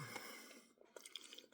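Someone chews a mouthful of cooked eggs with garlic, onion and butter, bits of eggshell giving a few soft crunches, close and quiet, brief and irregular with no talk.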